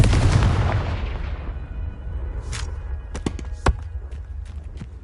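Confringo spell cast in the Hogwarts Legacy video game, a booming blast that fades out, followed by scattered sharp cracks and thuds with one louder hit.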